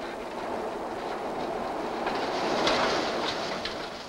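A train of wagons runs on a linear-motor conveyor at an automatically regulated speed. It makes a steady rolling rumble with faint clicking and rattling, moderately loud and continuous, with no voices.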